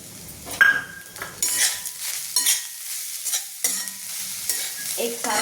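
A spoon scrapes and stirs grated coconut and jaggery in a hot pan for modak filling, with soft sizzling and irregular metallic scrapes and clinks, close up and with no talk.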